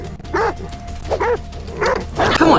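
An attack dog in the survival video game Die Young barks about four times in loud, close, yelping bursts spaced roughly evenly apart, the last one rougher and longer.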